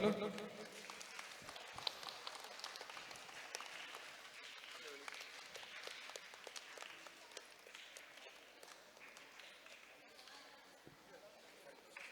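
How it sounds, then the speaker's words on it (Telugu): Applause from an audience at a dance academy birthday celebration, a sustained patter of many hands clapping at a moderate distance that slowly fades across the clip. "చప్పట్లు"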